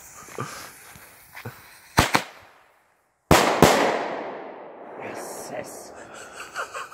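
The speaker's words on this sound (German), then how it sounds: "Flashbang von Weco aus dem Lidl. Guck mal, ob ich sie beide auf einmal ankrieg." Weco flashbang firecrackers bought from Lidl go off outdoors in two loud, sharp blasts a moment apart, followed by crackling and rumbling decay, with people talking and exclaiming around them.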